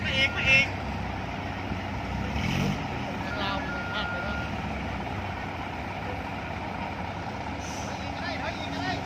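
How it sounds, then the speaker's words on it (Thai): Trucks arriving at an excavator site, with diesel engines rumbling, faint reversing beeps and an air brake hiss, heard at a distance under a voice. "รถดำกำลังทยอยเข้ามาครับ"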